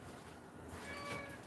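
A house cat gives a single faint meow in a kitchen, over the low background hiss of a pot coming to a boil.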